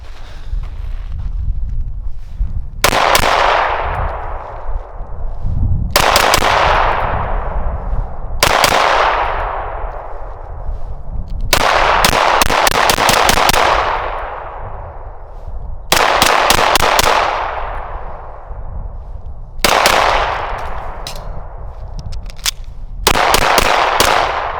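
Smith & Wesson Spec Series M&P 9 pistol with a compensator firing outdoors: sharp, loud gunshots come singly and in quick strings of several rounds, each cracking and echoing away, with wind rumble between.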